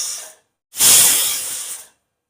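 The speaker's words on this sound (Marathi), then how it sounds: "2 शिट्या झाल्या, गॅस बंद करायचा." A pressure cooker of dal khichdi over a medium gas flame releases steam through its whistle: a fading hiss, a brief silence, then a loud, close jet of hissing steam lasting over a second.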